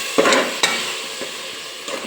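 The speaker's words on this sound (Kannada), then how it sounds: "ಇದು ಹಸಿ ಸ್ಮೆಲ್ ಹೋಗೋವರೆಗೂ ಸ್ವಲ್ಪ ಹುರ್ಕೊತೀನಿ" Ground masala paste frying in a pan with tomatoes for menthya palav, giving a steady sizzle broken by a few sharp stirring scrapes near the start and again near the end, close by, with no talking.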